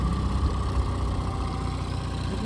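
The outboard engine of a MacGregor 26x sailboat idles with a steady, loud, low mechanical rumble and even throb, heard alone with no talk over it.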